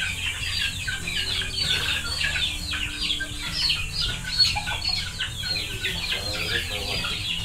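Young chicks in a poultry pen chirp continuously in a dense chorus of high, bright peeps, close and lively, with softer clucking behind them.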